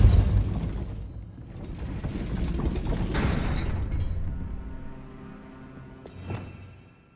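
A Depulso spell raising a gate mechanism in Hogwarts Legacy, heavy rumbling and grinding with ratcheting clatter building and sustaining, then a final clunk as it settles.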